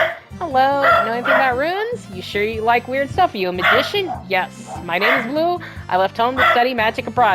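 A goblin in SaGa Frontier barks like a dog in repeated yips and woofs that run beneath and between a spoken exchange, close and fairly loud.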